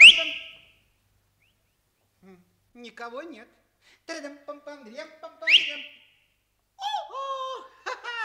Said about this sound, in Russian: Из-под зонта раздается свист.